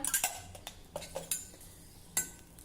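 Green chillies roasting in oil in a pan, a spatula clinking and scraping against the metal in irregular strokes over a faint sizzle, close and fairly quiet.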